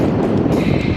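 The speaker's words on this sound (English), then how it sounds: "It is so windy." Heavy desert wind of up to 90 mph in New Mexico buffets the microphone, a loud continuous low rumble and roar with no voices.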